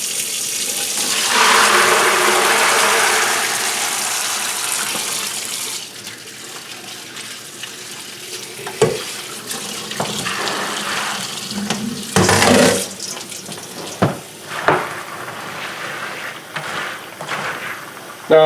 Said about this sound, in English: Now I'm going to make sure that I rinse it off a couple more times.